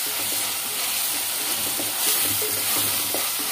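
Onions and green chilli pieces sizzle and fry with ginger-chilli paste in a hot pan, a steady hiss with repeated scraping strokes of a spatula tossing them, close and fairly loud.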